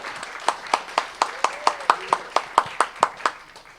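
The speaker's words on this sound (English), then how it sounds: "I'll give a hand of applause." Audience applause at a live participatory performance event, heard as a steady series of about a dozen distinct, evenly spaced claps rather than a dense crowd roar, fairly close and clear with no talk over it.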